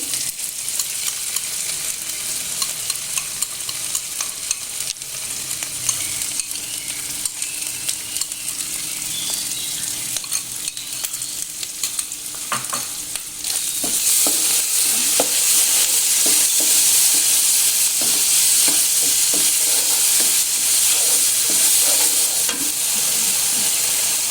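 Ground chili with turmeric sizzles and crackles in a pan for rendang while a spoon stirs it, a continuous hiss that grows louder and brighter halfway through, close up with no talking.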